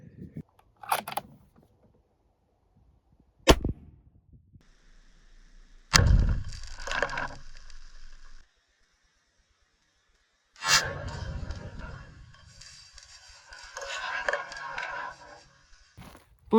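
Sharp bang of a cap blowing off a heated can during an explosive science experiment outdoors, one abrupt loud pop followed by clattering and rustling, with further brief impacts and noisy bursts later.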